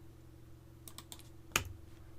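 Keystrokes on a computer keyboard while a network command is entered, a short burst of quick taps followed by one firmer keypress. Quiet and close, with faint background hum and no voices.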